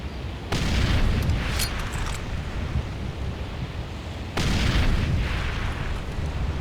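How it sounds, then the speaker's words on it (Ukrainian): A grenade goes off in the video game Far Cry 2 with a loud, close, broad blast, its rumble hanging on. A second heavy boom follows a few seconds later, and no one speaks. "Хоча давайте туди гранату так кинемо."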